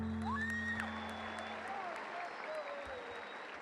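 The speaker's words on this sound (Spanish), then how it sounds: "Aplauso, por favor." Faint applause from an audience at an assembly of coca-growing organizations in Catatumbo, a soft continuous patter under tonal music or whistling sounds and a voice.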